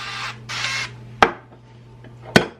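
Two quick hissing bursts of cooking oil spray onto a waffle iron, then a pair of sharp clicks close by in a quiet room.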